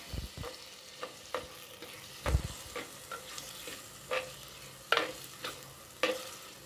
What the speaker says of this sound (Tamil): இதை நல்லா மிக்ஸ் பண்ணி விட்டுறலாம்.